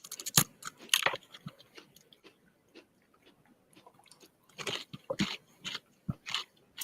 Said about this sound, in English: Nice crunch.